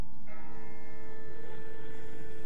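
A distant church bell tolls in The Walking Dead video game, struck once with a long ringing decay that hangs faintly over a low rumble.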